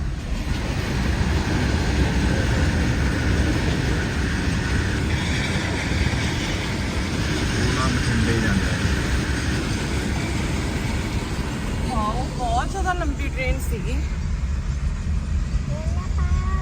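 A train rumbles past close by at a level crossing, a loud, steady broadband roar that holds throughout, with voices talking over it near the end.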